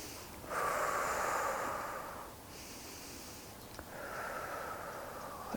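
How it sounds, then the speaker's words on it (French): Slow, deep abdominal breaths in a calm breathing exercise: a long airy exhale, a pause, then another drawn-out breath, close and soft with no speech. "j'essaye de respirer par le ventre de manière abdominale"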